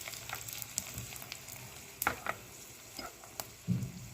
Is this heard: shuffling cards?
no